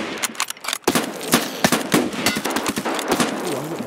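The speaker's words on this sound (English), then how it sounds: "I'm getting shot at by two of them" Rapid bursts of video game gunfire crack out loud and close in a dense, uneven volley, the player taking fire from two attackers at once near a bridge.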